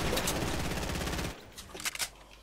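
Rapid automatic gunfire in the video game Fortnite fills the first half with dense, loud bursts, then drops to a few scattered, fainter shots.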